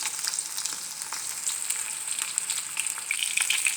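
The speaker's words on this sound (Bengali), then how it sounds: "মাছটা আমি সবার প্রথমে ভেজে নিচ্ছি" Fish frying in a pan, with a steady, close crackling sizzle of hot oil that carries on unbroken, with no voices.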